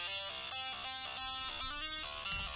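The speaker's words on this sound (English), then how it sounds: "we're going to assign envelope 2 to the cutoff so we can mess around with the movement in the sound" Bright synth lead patch with its filter cutoff swept by an envelope, in the style of a trance lead, playing a rhythmic stepped melody of short sustained notes, loud and continuous with no voices.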